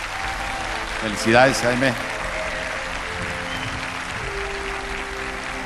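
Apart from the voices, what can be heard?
audience applause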